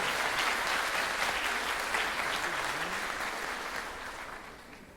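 A congress audience applauds during a talk at the Amor-Exigente congress. The hall fills with full, dense clapping that holds steady, then gradually thins and fades toward the end.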